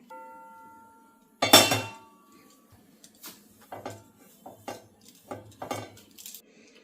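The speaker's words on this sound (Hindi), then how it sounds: "अब चढ़ा रही हूँ फ्राई पैन" A frying pan is set down on a stove in a home kitchen during kadhi and mixed-vegetable pickle preparation, giving one loud clank followed by a series of lighter clinks and taps from pots and utensils.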